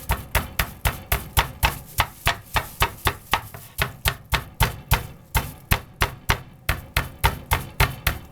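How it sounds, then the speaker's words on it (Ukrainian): Chicken drumsticks sealed in a plastic bag pounded flat with a kitchen mallet, a steady run of about two dozen loud, close, evenly spaced thuds with a crinkly plastic edge, no talking. "кладу наші гомілки, кульок і починаю відбивати."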